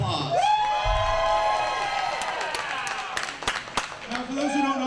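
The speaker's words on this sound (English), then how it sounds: "give yourselves a round of applause" The crowd at an independent wrestling event in Clearfield cheers, whoops and applauds, with scattered claps and shouts over a steady roar and a voice talking through it.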